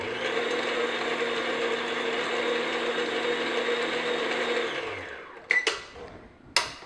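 An electric mixer whirs steadily at close range, beating vanilla extract into butter tart filling, then stops near the end; a couple of short knocks follow.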